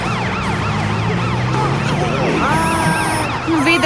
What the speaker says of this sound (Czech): Super, sanitka má pohotovost.